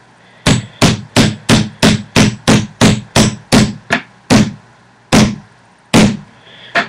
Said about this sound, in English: a little tack hammer, that's all you need.